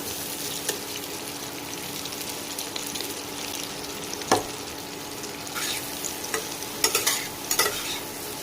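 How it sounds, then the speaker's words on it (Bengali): Cut potatoes fry in butter and a little white oil while being stirred, giving a steady, close sizzle with scraping stirs and a few louder clinks near the end, no talk. "এবার এর মধ্যে আমি দিয়ে দেব কেটে রাখা আলুগুলো"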